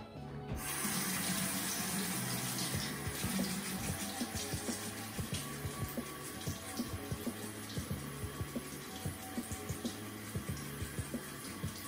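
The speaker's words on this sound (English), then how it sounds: "So I'm gonna wet my face first" Water runs steadily from a tap as someone wets their face before putting on a turmeric face mask; a continuous close splashing rush lasts throughout, with no talking.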